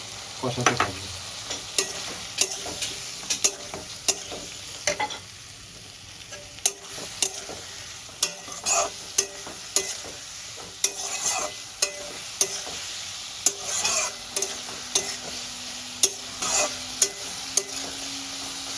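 Pumpkin stalks and potato are sautéed with a soaked paste of ground coriander, cumin, chili and turmeric, a low sizzle punctuated by sharp, regular spatula knocks against the pan for the whole stretch.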